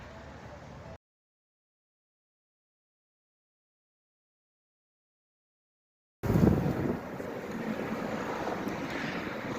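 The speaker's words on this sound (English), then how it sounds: "As you can see, wind is picking up a little bit." Gusting wind blows outdoors as weather turns rough for cycling, a short burst of roaring wind noise at the start, then silence, then loud, steady buffeting wind across the mic.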